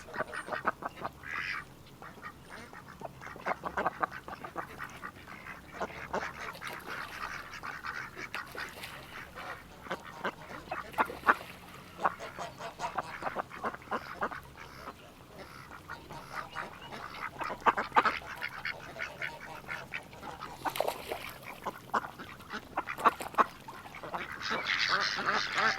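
Farm ducks quacking repeatedly over about twenty-five seconds, a busy flock close by with overlapping calls and some goose-like honks, steady and moderately loud.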